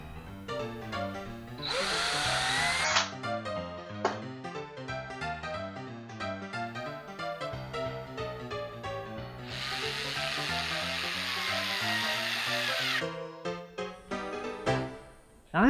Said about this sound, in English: I'm using a self-centering drill bit to put the holes in the hinges.